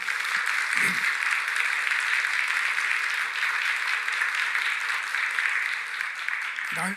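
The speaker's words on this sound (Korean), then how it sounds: "우리 선교사님과 친구들을 위해서 한번 또 격려의 박수 한번" A church congregation gives encouraging applause for a missionary and friends, a dense, even wall of clapping sustained for about seven seconds.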